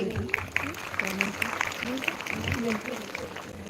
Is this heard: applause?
yes